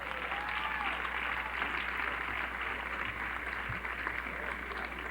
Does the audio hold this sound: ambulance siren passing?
no